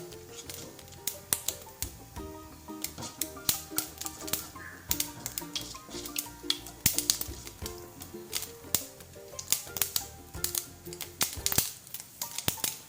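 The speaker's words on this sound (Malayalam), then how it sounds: "കടുക് പൊട്ടുന്നുണ്ട്" Mustard seeds spluttering in hot coconut oil while tempering for a bitter gourd thoran: dense, irregular crackles and sharp pops burst steadily throughout, close and fairly loud with no talk.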